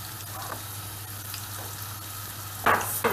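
Steady sizzle of carrots and vegetables frying in a pan, close by, with a few louder scraping stirs near the end.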